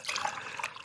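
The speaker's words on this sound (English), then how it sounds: "Oh, now I can just pour myself a cup of coffee." Coffee pours into a cup in a brief, steady splashing stream of liquid, close and fairly quiet.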